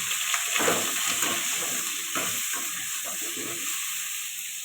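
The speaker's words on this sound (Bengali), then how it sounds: "পটলটা ভাজা হয়ে গেছে, নামিয়ে নেব।" Pointed gourd frying in oil with salt and turmeric, a steady close sizzle with soft stirring scrapes scattered through it.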